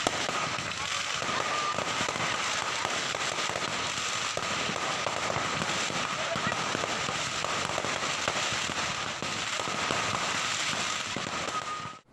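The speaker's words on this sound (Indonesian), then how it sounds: "Nampak sejumlah alat berupa batu dan kayu serta kembang api digunakan oleh kedua kelompok yang bertikai itu untuk saling serang" Fireworks go off during a street clash between two groups on a road in Sanggeng, a continuous dense crackle of rapid pops and bangs with crowd noise and voices mixed in throughout.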